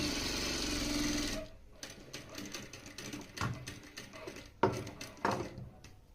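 A Daisen sewing machine stitching long stitches, running with a steady close whirring hum for over a second, then slowing into scattered mechanical clicks and taps, with no talk.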